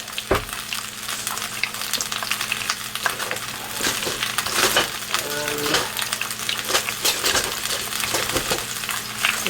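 Cucumbers and shallots tossed in a hot pan, sizzling steadily with scattered clinks and scrapes of utensil on metal and a few sharp knocks, loud and close with no talk over it.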